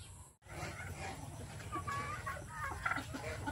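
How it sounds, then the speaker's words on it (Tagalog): Chickens cluck and call on a farm, a steady flock chatter close by with a few sharper higher cries rising over a low rumbling background. "Yung mga alaga. Mga manok. Ayan sila."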